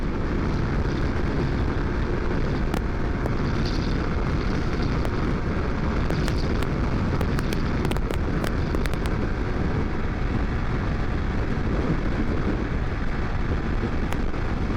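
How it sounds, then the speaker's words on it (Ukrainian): A Honda VTR 250 motorcycle engine roars steadily at high revs in fifth gear at full throttle, loud and continuous, with heavy wind rush over it throughout. "П'ята передачка. Газ на всю."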